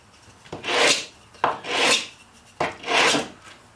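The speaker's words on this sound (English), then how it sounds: "Now you can do that with a piece of sandpaper" Sandpaper rubbed by hand along wooden edges to round them off, heard as three separate rasping strokes of roughly a second each, each opening with a sharp onset, close and fairly loud, with no talk.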